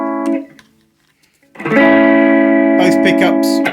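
Epiphone Gold Top electric guitar on its bridge pickup through a Vox AC4TV amp, one sustained chord that fades, a brief pause, then a louder ringing chord with reverb and some light string noise.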